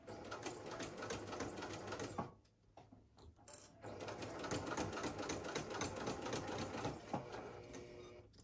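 A sewing machine stitches slowly through thick layers of a tote bag, its rapid mechanical needle clatter running steadily, dropping out briefly near the start before resuming at full pace.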